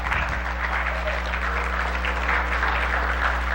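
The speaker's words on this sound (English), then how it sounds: "I always like it when people clap before I speak" A church congregation applauding at a Baptist morning service, a steady, dense wash of clapping from many hands throughout, loud and even with a low hum beneath.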